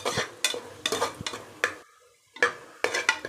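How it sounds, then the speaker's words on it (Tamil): Tomatoes with salt are sautéed in a pan for tomato rice, a spatula scraping and clacking against the metal in quick, repeated strokes over a soft sizzle, with a brief pause midway. "சால்ட்டு போட்டு நல்லா வதக்கும்போது தக்காளி நம்மளுக்கு சீக்கிரமாக குழஞ்சி வந்துடும்"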